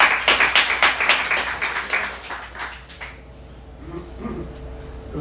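Church congregation applauding together, a steady run of loud clapping that fades toward the end as the room quiets.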